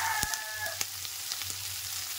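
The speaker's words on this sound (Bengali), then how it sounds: "হালকা করে নেড়ে দিয়ে 4 থেকে 5 মিনিট ধরে ভাজবো। হাই ফ্লেমে একটু ভাজতে হবে।" Ivy gourd frying over a high flame, a steady close sizzle with a few sharp clicks from stirring, heard alone without voices.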